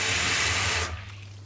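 Room-temperature water poured from a stream into a baking tray for a crème brûlée water bath, a steady close splashing gush that stops abruptly near the end, leaving a faint low hum.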